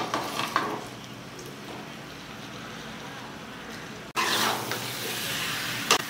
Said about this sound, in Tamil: ஃபுல் ஃபயர் வச்சு நல்லா பரட்டி